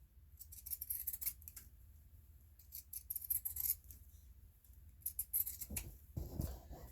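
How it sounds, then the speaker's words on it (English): Pinking shears snipping through fabric for a child's tote bag, a series of close crisp cutting crunches in quick clusters with short pauses, ending in a few heavier handling rustles. "I'm going to go ahead and take my pinking shears"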